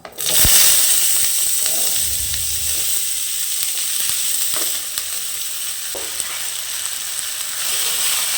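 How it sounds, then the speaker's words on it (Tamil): Chopped capsicum sautéed in a pan with popped mustard seeds, giving a loud, steady sizzle with occasional scraping stirs of a spatula, no voices. "கட் பண்ணி வச்சுருக்கிற முதல்ல இந்த காயை சேர்த்து கொஞ்சம் வதக்கணும்."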